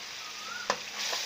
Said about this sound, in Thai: ก็เคี่ยวนะครับส่วนผสม นะเคี่ยวส่วนผสมให้งวดเลยนะครับ